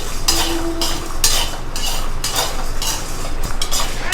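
Lentils, dried chilies and garlic are stirred while roasting in a pan, with a metal spoon scraping and clinking against the pan in repeated close strokes over a faint background sizzle.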